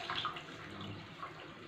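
Water pours steadily into a pot of rice, a continuous close splashing wash with no talk over it.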